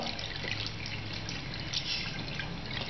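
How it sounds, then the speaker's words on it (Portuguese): Running water trickles and drips steadily as a makeup brush, worked with hair conditioner, is rinsed under a tap, a close, continuous wash with no talking. "Aí você vai enxaguar para retirar o excesso de condicionador."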